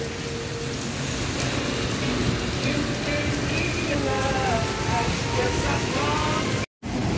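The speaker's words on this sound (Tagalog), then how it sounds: "pero grabe ulan" Heavy rain pours down in a dense, steady hiss with no let-up, and faint voices are mixed into the downpour.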